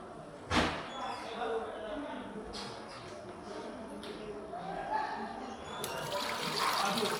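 Water is poured and sloshed over a microscope slide during rinsing after a Perls' Prussian blue stain, producing soft trickling and splashing with a few clinks of glassware, ending in a louder pour.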